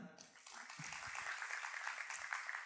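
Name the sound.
church audience applause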